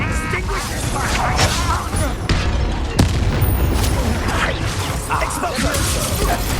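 A spell explodes in Hogwarts Legacy: a loud, dense boom with crashing, shattering debris and whooshing bursts that rumble on continuously, with a voice briefly heard over the blasts.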